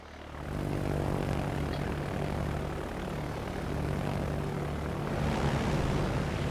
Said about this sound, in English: This time it's torpedo planes.